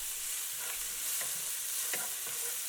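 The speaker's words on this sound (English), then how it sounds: "Then add 1 tablespoon of ginger paste and the green chilies, and just fry them for half a minute or so" Ginger paste and green chilies frying in a pan for a green bean coconut subzi, a steady close sizzle with a few soft stirring scrapes, no voices.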